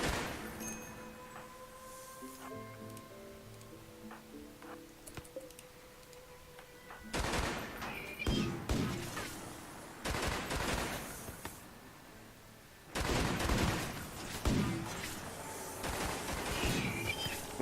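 Gunfire from long-range guns in the video game Rimworld erupts in dense, rattling bursts after a quieter stretch of tonal game sounds, with two heavy volleys of rapid shots at middle distance and no voices.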